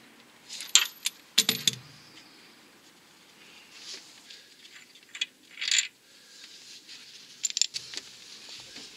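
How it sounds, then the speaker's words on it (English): Metallic clinks and jangles as the crankshaft pulley bolt comes off a Renault Clio 2 during a timing belt job: scattered sharp taps and rattles, a few louder bursts between quiet stretches, with no voices. "Hold the belt from the top with the right hand to prevent the crankshaft from turning while you remove the crankshaft"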